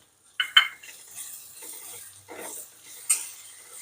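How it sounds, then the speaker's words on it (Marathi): Coriander and coconut being stir-fried for kanda poha, a few sharp metal spoon clinks and scrapes against the pan over a faint sizzle, close and sparse, with no voices. "कोथंबीर परतून घेऊ"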